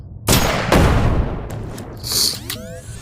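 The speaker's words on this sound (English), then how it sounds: "Let's use our pistol." Pistol shots fired in the VR shooter game Shotwood, several sharp bursts in quick succession, loud and close, with a higher whining effect at the end.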